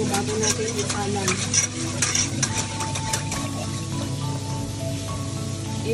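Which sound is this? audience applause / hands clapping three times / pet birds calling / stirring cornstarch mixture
stirring cornstarch mixture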